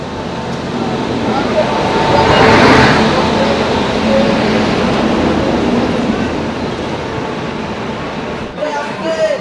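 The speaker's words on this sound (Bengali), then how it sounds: "দেখো ট্রেন কিন্তু ঢুকছে, আর সম্ভবত ওয়াপ 7-এর ইঞ্জিন দিয়েছে।" A passenger train, the Ma Tara Express hauled by a WAP-7 electric locomotive, pulls into a station. Its loud rolling rumble swells and then eases, with wheel clatter throughout and voices nearby.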